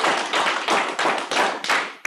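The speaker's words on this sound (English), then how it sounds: "Can we practice clapping?" Several people at a team meeting clap together once per closing, giving a run of sharp, loud group claps in a steady rhythm, each a short burst, close by with no talk.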